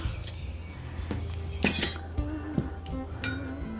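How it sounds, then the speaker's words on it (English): Utensil stirring milk for tangy yogurt after calcium chloride is added, giving a few light clinks against the pot, close and sparse. "Just give that a quick stir."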